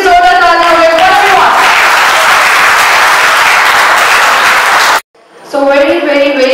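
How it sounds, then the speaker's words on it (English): Loud audience applause at a Volkswagen Polo and Vento facelift car launch in India, sustained crowd clapping with music underneath that cuts out abruptly, then music resumes alone. "let's give a big round of applause for Volkswagen"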